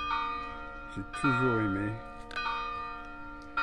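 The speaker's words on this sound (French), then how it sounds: "Juste pour vous faire entendre les cloches de l'église de Bruniquel." Church bells of Bruniquel ring out with sustained, ringing tones in a quiet village setting, while a person speaks briefly over them.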